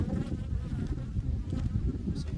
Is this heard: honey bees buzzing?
yes